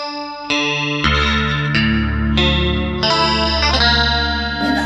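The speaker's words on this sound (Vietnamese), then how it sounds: "Detune, tiếng detune sẽ làm cho cái tiếng nó sắc bén hơn" Electric guitar through a Nux MG300 multi-effects pedal with a detune effect, a shimmering, doubled tone playing a slow run of sustained notes that step upward, each attack clear and ringing, played alone.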